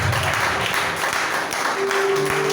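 Church congregation applauding through a short stretch of steady clapping at moderate loudness, with a low hum of room noise and a sustained tone near the end, no distinct cheering voices.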